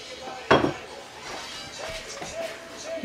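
Melted chocolate and butter being scraped out of a bowl with one sharp clink near the start, then soft scraping under continuous talk.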